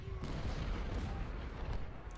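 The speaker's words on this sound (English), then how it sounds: "Cannons are kind of raining lead here, though." Cannon artillery in the Civil War strategy game Ultimate General: Civil War, a muffled low rumble of distant booms rolling continuously under the battle noise.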